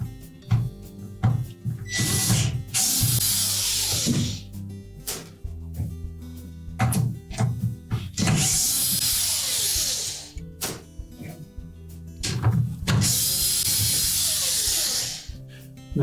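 A powered driver backs out number 15 Torx screws from a Whirlpool dishwasher pump cover, three long whirring bursts with clicks and clatter between them, loud and close.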